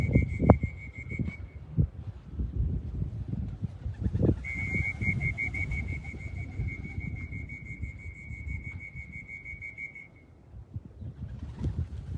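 Racing pigeons return outdoors in cold weather from a 150-mile race, with a high steady whistling tone and soft fluttering over continuous wind-like rumble. No one speaks.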